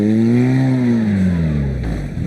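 Car engine revving hard and steadily as it climbs a slippery hill in an Irish sporting trial, the loud pitch sliding down slightly as the revs fall away.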